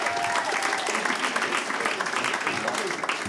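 Dense, sustained applause from a comedy audience fills the whole stretch, steady and loud without letting up.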